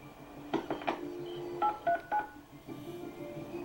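A telephone dials a conference call as a quick series of distinct touch-tone beeps in two clusters, clear and close, with a quiet line hum between and no talk.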